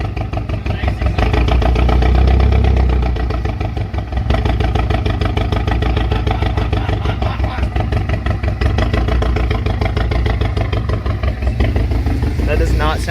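A 2017 Camaro 2.0 turbo four-cylinder with a bad misfire and dead cylinder idles loudly nearby, its uneven, lumpy pulsing running steadily throughout.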